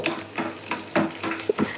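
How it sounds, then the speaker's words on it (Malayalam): Curry leaves frying in a pan for ven pongal, with soft bursts of sizzling and stirring scrapes that come and go in a steady rhythm, close by and moderately loud with no talking. "കറിവേപ്പില ഇതിട്ടിട്ട് ഒന്ന് നമുക്ക് വാട്ടിയെടുക്കാം"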